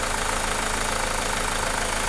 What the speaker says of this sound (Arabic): نرجع نشوف شوفوا الموتور كيف ارتاح ولا تحت.